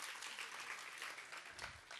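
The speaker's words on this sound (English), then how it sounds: "Clapping doesn't work." Audience clapping at the end of a lecture at a student science camp, a faint, steady wash of many hands heard at a distance for about two seconds.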